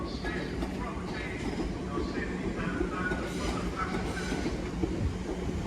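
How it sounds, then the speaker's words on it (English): Southern Class 377 electric unit 377706 pulls out of Watford Junction on a service to East Croydon, a steady rumbling roll with faint clickety-clack and a touch of wheel squeal, heard from the platform with people talking over it. "377706 is leaving on the 1552 Southern service to East Croydon from Watford Junction."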